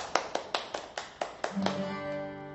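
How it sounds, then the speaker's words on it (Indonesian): A church congregation claps during an evening worship service: a series of sharp, evenly timed claps that gives way to sustained musical tones toward the end. "Bagi tepukan yang gemuruh bagi Tuhan kita"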